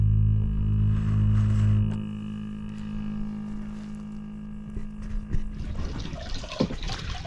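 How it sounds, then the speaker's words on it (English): A solar-powered pump delivers water into a 1,000 litre shuttle tank on a dam bank; a steady motor hum fades out, then splashing and trickling water runs into the tank. "here it is, the water running into our pod"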